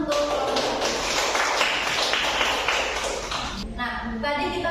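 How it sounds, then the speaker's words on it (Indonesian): Students in an Indonesian classroom applaud a presenting group, a steady patter of many hands clapping at close range with a voice speaking over the end. "Beri tepuk tangan untuk kelompok 1."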